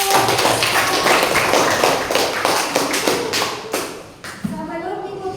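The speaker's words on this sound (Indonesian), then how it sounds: "Tepuk tangan untuk" A school class clapping together at the end of a lesson, a fast, busy patter of many hands that thins out and fades toward the end. A voice can be heard partway through.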